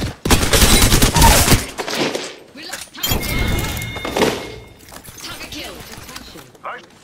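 Gunfire in the shooter game Apex Legends: loud dense bursts of rapid shots, then a break and more scattered impacts and thuds, with a player talking over the action.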